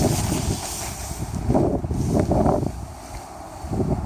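Wind gusts into the open mouth of an X-Lounger lightweight nylon inflatable lounger outdoors, heard as close, blustery rushing with fluttering fabric swells that rise and fall several times.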